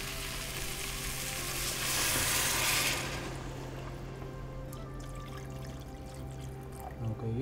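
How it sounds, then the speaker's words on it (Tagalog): Pork stock, simmered earlier with pork and taro, is poured into a cooking pot for sinigang. A steady wash of liquid swells into a louder rushing pour midway, then settles back to a constant simmering hiss. "pwede na tayong maglagay ng water"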